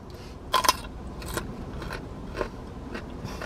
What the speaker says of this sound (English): Good chomping and chewing